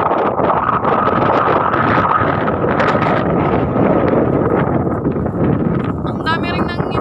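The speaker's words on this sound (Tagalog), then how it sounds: "Grabe ang lakas ng hangin." Strong coastal wind buffets the microphone with loud, continuous rumbling gusts, while a person speaks beneath the roar and a faint high chirping sound appears near the end.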